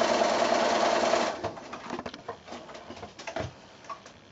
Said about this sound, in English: I'm just doing that second line of sewing there.